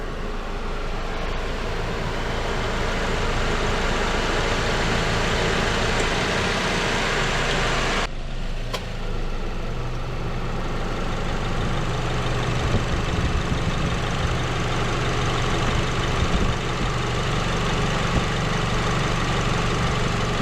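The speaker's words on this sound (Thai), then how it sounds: "เครื่องยนต์เดินนิ่งนะครับ เงียบ" A 2007 Toyota Vios automatic engine idles steadily at close range with the hood open, a smooth, quiet low rumble with a brief dip partway through before it settles back to an even hum.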